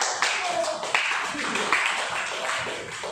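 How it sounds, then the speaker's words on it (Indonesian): Students in a classroom clapping, a brief, somewhat sparse round of applause with individual claps audible, fairly close, and voices mixed in. "Beri tepuk tangan."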